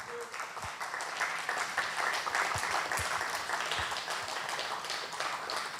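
An audience at a healing summit applauds, a moderate, steady wash of clapping from many hands with a few louder individual claps, heard at some distance in a hall.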